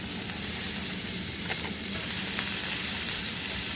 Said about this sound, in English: I've got a medium-sized frying pan on medium-high heat with a bit of oil in it, and I'm just going to add the cauliflower